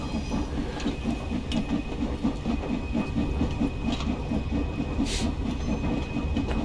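A train in the Train Sim World game rolls over a track switch, with a steady rumbling hiss and faint regular clicks from the wheels throughout.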